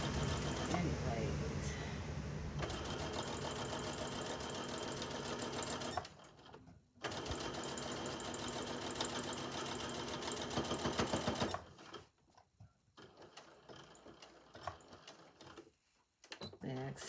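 A sewing machine stitches a Christmas table runner in long, dense runs of rapid mechanical chatter, pausing briefly around the middle and giving way to quieter, sparse handling sounds near the end.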